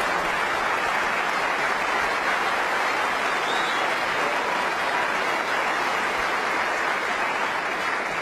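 A snooker crowd applauds warmly in an arena, with dense, even clapping that fills the space without a break.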